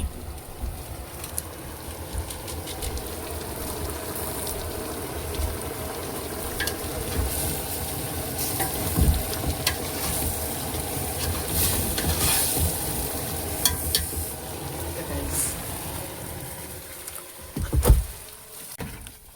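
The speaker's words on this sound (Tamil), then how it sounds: "பொடியை போட்டு நல்லா கிண்டி விட்டுருங்க" Oil sizzles and crackles steadily in a pan as spice powder is stirred into frying chicken, with occasional scraping and clinks of stirring, close by and fairly even in level, cooking aboard a boat at sea.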